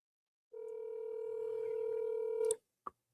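A phone places a call with one long steady dial tone that cuts off abruptly, followed by a short electronic blip, in a quiet room with no voices.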